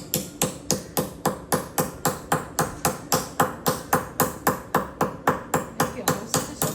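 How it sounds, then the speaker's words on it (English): A brass bowl is hammered by hand in a steady, even rhythm of about three sharp metallic strikes per second, each ringing briefly, loud and close, with no talking. "Hammer the bowl there."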